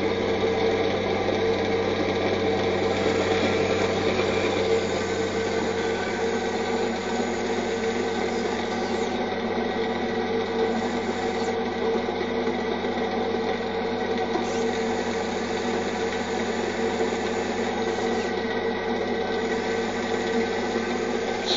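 A small electric motor powered by a Bedini SSG five-coil circuit runs steadily, giving a continuous high-pitched whine and buzz with a constant tone from start to end.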